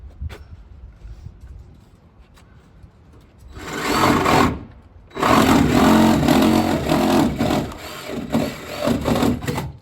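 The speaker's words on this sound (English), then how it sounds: "Jigsaw was way smoother, but it's just so short. The blade's so short." A jigsaw with a short blade saws through wood while someone boxes in cabin corners, the tool buzzing in a brief burst and then running in a longer, rough, rasping cut nearby.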